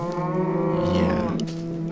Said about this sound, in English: Yeah, silly cows.